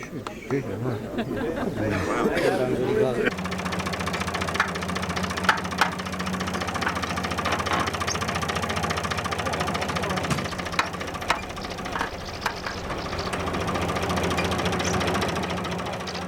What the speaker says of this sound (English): this old tractor leaving the farm